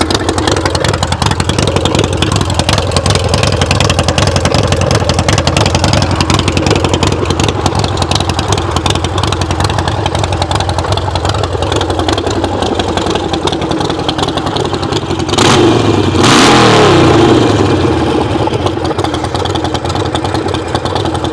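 A custom Harley-Davidson Sportster 48 Goodwood Edition with long exhausts idles with a steady, deep rumble, revving up and down a few times, and gives a brief louder blip near the end. No one speaks.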